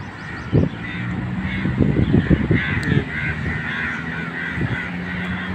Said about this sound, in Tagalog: Ibon, daming ibon.